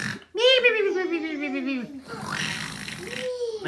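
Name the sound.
voice imitating snoring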